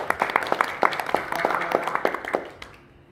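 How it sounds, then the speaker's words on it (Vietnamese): Applause from an audience honouring a speaker at a talk in Nha Trang, a steady patter of many hands clapping at close range that fades out over the last half second. "Chúng ta cho anh Việt chúng ta một tràng pháo tay thật lớn nha"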